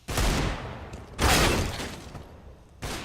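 Gunfire in Counter-Strike on the map Mirage during a competitive pistol round: three loud, broadband bursts of shots, each with a short echoing tail, heard alone with no talk.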